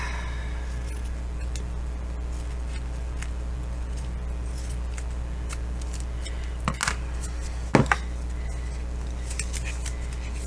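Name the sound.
cutting off material while sewing in bookbinding signatures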